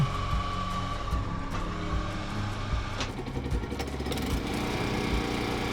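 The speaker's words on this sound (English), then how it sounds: "where he fired up a heavy-duty hydraulic wood splitter" A heavy-duty hydraulic wood splitter runs in a workshop on Yakushima, Japan, its engine giving a loud, steady, unbroken drone for the whole stretch, with no voices.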